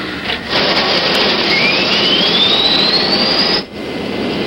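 A jet airliner's engines roar loudly at a film's inaugural flight, a steady dense rush with a rising whine sweeping upward, briefly dropping out near the end before resuming.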